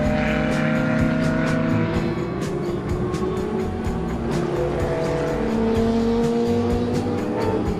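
Can-Am race cars, including 800 hp big-displacement V8 monsters alongside small 2- and 3-litre sports prototypes, roar around the Hockenheimring, a loud continuous engine howl with rising and falling revs, passing cars and occasional tire squeal.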